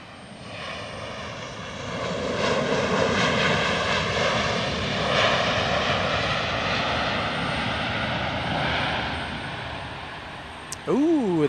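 A Southwest Airlines 737 arriving at Portland International Airport gives a loud, steady engine roar with a slowly shifting whine that builds and then holds for several seconds.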